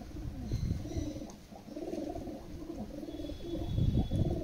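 Kalanka red-eyed pigeons coo in low, repeated throaty phrases that come and go steadily over a few seconds, fairly close and without talk.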